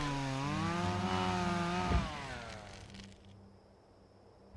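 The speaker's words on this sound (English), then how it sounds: "We use this chainsaw to cut a tree that fell across our path" A chainsaw in the ObsCure 2 survival horror game cuts through a fallen tree, its engine whining loud and steady, bogging down with a thump as it bites the wood, then dropping to a rough idle.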